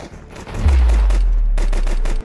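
Pistol gunfire in a tactical shooter video game comes as a rapid burst of sharp, heavy shots over a loud low rumble, lasting a couple of seconds.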